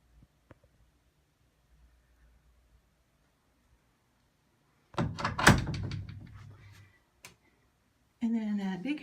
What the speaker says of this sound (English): a big heavy door that goes into the bathroom